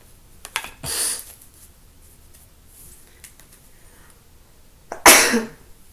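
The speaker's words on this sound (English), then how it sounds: "Excuse my sneezing, guys." Two sharp sneezes, one early and a louder one near the end, separated by quiet with faint small rustles.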